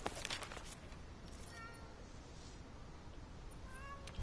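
A cat meows in Monster Hunter World: Iceborne, two short meows, one midway and one near the end, over steady in-game ambience.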